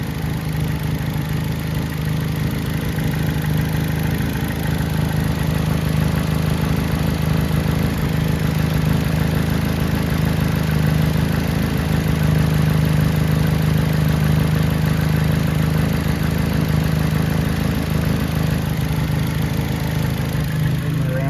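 A 2007 Saturn Vue with a straight pipe exhaust idles steadily and loudly close by, a continuous low rumble with no talking.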